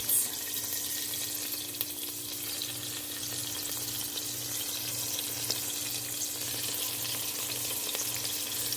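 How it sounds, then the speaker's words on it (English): Cabbage soup sizzles and crackles steadily in a hot pot, a close, continuous frying hiss with a low rhythmic hum beneath. "Just sizzling."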